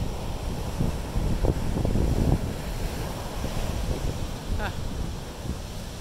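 Big waves roll onto Sunny Isles beach in Miami on a windy day with surfers out. A continuous surf roar is layered with wind gusts buffeting the microphone.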